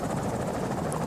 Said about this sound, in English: It's my Apache.